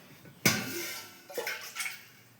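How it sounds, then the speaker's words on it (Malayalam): Water is poured over flattened rice (aval) in a bowl at home, a sudden close splash followed by a trickling pour and a few more bursts of splashing, with no speech. "അവിലേക്ക് വെള്ളം ഒഴിച്ച് കൊടുക്കാം."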